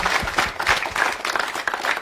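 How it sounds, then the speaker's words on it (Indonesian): Audience applause at a school poetry-music theatre performance on a cultural TV program, a steady dense burst of many hands clapping nearby that fills the short moment. "Tepuk tangannya yang meriah."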